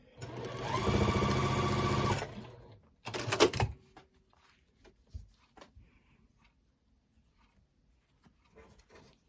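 Sewing machine running a steady close burst while joining patchwork quilt strips for a scrappy quilt block, followed by a couple of clunks and handling knocks, then near silence.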